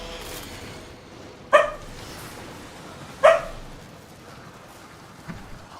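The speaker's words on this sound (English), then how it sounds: "Talia, please chill. I don't want to hear you barking your ass off all night long." A pet dog named Talia gives two sharp barks a couple of seconds apart, moderately close in a quiet indoor room, with a fainter yip near the end.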